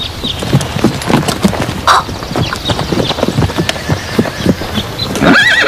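Loud hooves clip-clop steadily at close range, with a horse whinnying briefly in between.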